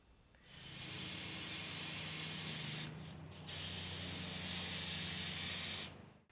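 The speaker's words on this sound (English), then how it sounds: "Once the primer is dry, I'll spray the gray." Gray paint sprays from an airbrush onto model train control stand parts as a steady close hiss, lasting several seconds with one brief dip midway.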